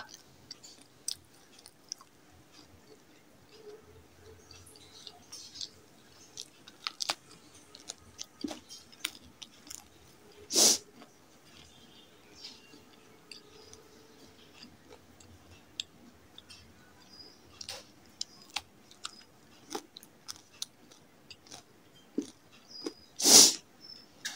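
Corn being eaten close up gives scattered soft chewing and crunchy bites, with a couple of sharp loud snaps standing out among quieter clicks and pauses.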